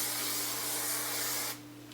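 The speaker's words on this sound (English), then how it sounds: "I will take some hairspray and spray it." Hairspray from an aerosol can sprays onto freshly curled hair in a steady, close hiss that lasts about a second and a half and then cuts off, leaving a faint low hum.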